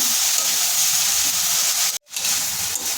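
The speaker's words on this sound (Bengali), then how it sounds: "2 মিনিট ভেজে দিয়ে দিচ্ছি সজনে ফুল।" Drumstick flowers frying in a pan with potato and carrot, giving a steady loud sizzling hiss that briefly cuts out for a moment before resuming.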